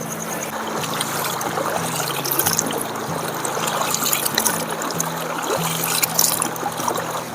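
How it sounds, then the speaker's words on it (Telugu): A stream running full after heavy rain, a steady close trickling and gurgling flow that continues without a break under a low engine-like hum. "వర్షం బాగా కొట్టిన వల్లే ఒడ్ర అయితే ఫుల్ వాడుతుంది"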